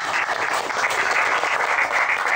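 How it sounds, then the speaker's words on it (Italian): A steady, even round of audience applause at a book-festival talk in Italy. Continuous clapping from a crowd runs at moderate volume throughout, with no voices on top. "E quindi gradirei un applauso per tutti quanti."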